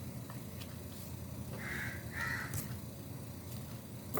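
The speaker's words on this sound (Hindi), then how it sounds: "आपको कौवे की आवाज़ आ रही है" Two harsh crow caws in quick succession, fairly clear above a steady low background rumble, with no voices.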